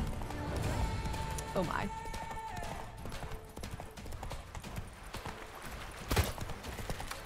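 Geralt's horse Roach in The Witcher 3: Blood and Wine gallops with steady clip-clop hoofbeats under ongoing game sounds, while a person talks over it and a sharp hit lands near the end.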